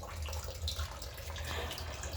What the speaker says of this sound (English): there's water coming right out of here.